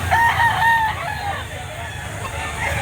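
A rooster crows loudly and nearby at a chicken market in Lipa City, Batangas, one drawn-out call over a busy background of clucking fowl and low crowd murmur.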